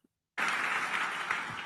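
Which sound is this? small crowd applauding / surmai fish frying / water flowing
small crowd applauding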